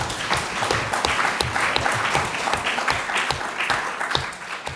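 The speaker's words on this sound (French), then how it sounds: "Peut-être on pouvait l'applaudir." A seminar audience applauds a speaker after a round-table talk on mental health awareness, with dense, moderately loud clapping that runs steadily throughout and carries a few sharper individual claps.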